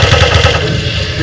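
Rapid automatic fire from an Uzi submachine gun in a video game, a loud, continuous burst of closely spaced shots filling the whole moment with no pause.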